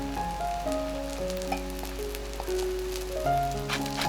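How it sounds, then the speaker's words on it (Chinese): A preserved-vegetable (meigancai) flatbread pan-fries uncovered over medium heat, producing a soft, crackly patter of sizzling under gentle background music and a low steady hum. "全程用中等火力煎梅干菜馅饼，不用盖盖子，将两面煎至金黄就完成了"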